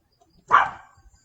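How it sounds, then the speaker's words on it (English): A dog gives one short, sharp bark nearby, alone in an otherwise quiet room. "My dogs are nuts."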